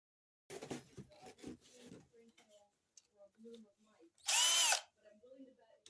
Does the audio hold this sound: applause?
no